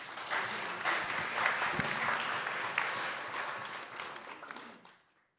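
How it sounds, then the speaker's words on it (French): An audience at an evening panel discussion claps in a moderate, even round of applause. It holds steady for about four and a half seconds, then fades quickly to silence. "vous pouvez peut-être tout de suite applaudir"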